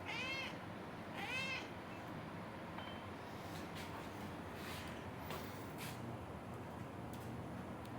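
A domestic cat meows twice in quick succession near the start, close and clear, followed by a quiet room with a few faint clicks.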